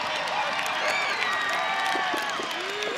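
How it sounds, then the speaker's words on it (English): An audience at an eighth-grade school promotion ceremony claps and cheers steadily, with whistles and whoops rising above the applause throughout. "Let's give the amazing Denny teachers and staff a huge round of applause."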